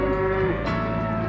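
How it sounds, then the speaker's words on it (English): Cattle in a station yard on the Birdsville Track give a single loud, drawn-out moo. The call sits up close and stands alone, with no voices over it. "I always get excited when I look at cattle working in a yard."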